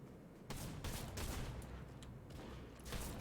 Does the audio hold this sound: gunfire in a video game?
yes